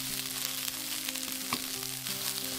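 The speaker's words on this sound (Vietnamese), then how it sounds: "Tôm khi mình xào trong tỏi nó sẽ giúp cho khử mùi tanh của tôm" Shrimp stir-fry with minced garlic in a pan, making a steady, close crackling sizzle with faint stirring clatter, alone with no talk.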